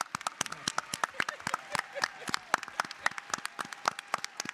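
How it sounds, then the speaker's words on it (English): A room full of people clapping at a Black Caucus gathering, sparse and fairly faint: a few dozen scattered, uneven hand claps over about four seconds, without a dense roar. "Give yourself a round of applause."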